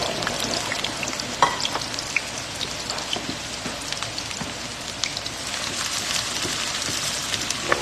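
Garlic and onion frying in a pan for sisig, with a steady, dense crackling sizzle and occasional sharper pops throughout, close and continuous with no talking.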